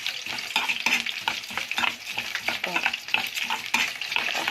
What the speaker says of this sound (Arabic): الزيت نطر عليا. محبش اقلي الفراخ بسبب كده